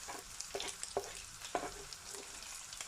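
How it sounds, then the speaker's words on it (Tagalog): Ground meat sizzles in a pan with garlic and onion for lasagna, a steady fry broken by several sharp spatula scrapes and stirring knocks, close and fairly quiet with no voices. "at halu-haluin lang po ang karne at ilalagay ko na ang sibuyas"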